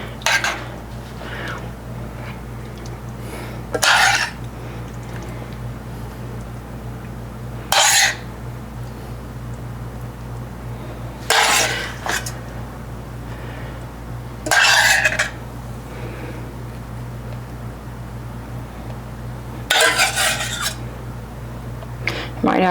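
Meat stirred with barbecue sauce in a bowl for keto stuffed chicken buns: repeated scraping, clattering utensil strokes in bursts every few seconds, close and fairly loud over a steady background hum.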